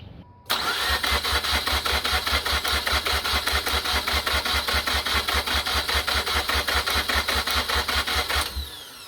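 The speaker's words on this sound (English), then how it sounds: "try to turn the engine on, but it won't receive fuel because you pulled that out" A Mazda RX-8 rotary engine with the fuel pulled cranks steadily during a compression test, a loud, even, rapid starter rhythm that begins abruptly, runs about eight seconds without firing, then stops.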